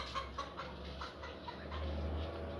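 Chickens in a coop give short, irregular clucks over a steady low hum, with a bird being handled nearby; the sounds are moderately close and fairly quiet, and no wing flapping stands out clearly.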